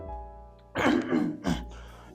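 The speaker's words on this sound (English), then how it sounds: "let me clear my throat" A young man clears his throat in a couple of loud, rough bursts just after some quiet background hum, close to the microphone with no words spoken.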